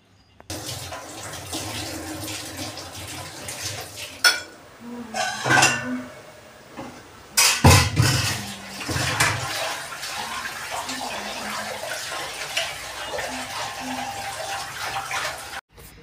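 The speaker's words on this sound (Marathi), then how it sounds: "त्याच्यासाठी काढलेली कढई आणि दुधाचा टोप आणि छोटं मोठं प्लेटा वगैरे आहेत, तर त्या पण घासून घेते लगेच" Kadhai, milk pot and plates being scrubbed at a kitchen sink, with running water and clattering metal utensils throughout, several louder knocks and scrapes in the middle, sounding close.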